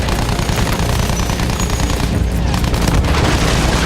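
Aircraft machine guns in the Battlefield 1 campaign fire a loud, dense, continuous stream of rapid shots, with explosive booms layered in and no pause for the whole burst.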